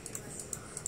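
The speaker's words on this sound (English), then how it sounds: "I'm typing there." Light, irregular keystroke clicks on a computer keyboard tap over a steady low background hum, quiet and close.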